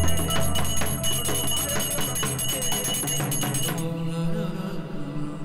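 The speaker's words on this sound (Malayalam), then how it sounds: "ഗളിഞ്ചനെയാണ് ഈ മണി, മറ്റവർക്ക് മണിയില്ല." Hand bell struck repeatedly by the Galinjan performer at a Karkidakam theyyam ritual in Kerala, ringing in a quick, steady metallic rhythm with bright overtones, then stopping abruptly and leaving a faint ringing decay.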